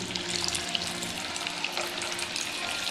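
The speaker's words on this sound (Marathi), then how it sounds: "आता आपण याच्यामध्ये मुठे तयार केलेले तळून घेऊ." Steamed muthiya dumplings fry in hot oil over a low-to-medium flame, giving a steady, dense sizzle with crackling bubbles throughout and no talking.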